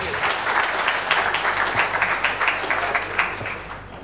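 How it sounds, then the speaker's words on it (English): An audience at a nutrition talk on whole foods claps to welcome a speaker, a steady, loud wash of applause from many hands that eases slightly near the end. "If everybody can give her a round of applause, please."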